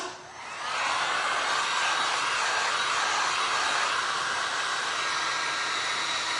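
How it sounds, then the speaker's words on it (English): A blow dryer drying small glass and resin art pieces, a steady close whooshing roar that starts up quickly and holds at an even level throughout, with no talk. "I'm gonna hit these with my blow dryer real quick and get these dry"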